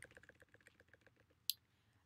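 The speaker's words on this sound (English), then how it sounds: "I'll just go to Indeed, I'll just go type here." Rapid, light keystrokes on a computer keyboard, a quiet close run of clicks ending in one sharper tap, no voices.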